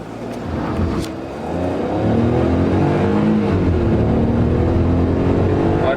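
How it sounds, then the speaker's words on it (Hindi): A Hyundai Venue 1.0L turbo automatic pulls hard toward 100, its engine note rising steadily from a launch and holding a loud, sustained rev from inside the cabin. "हम लोग ट्राई करते हैं कि कितने सेकंड्स में कि ये 100 क्रॉस कर जाता है"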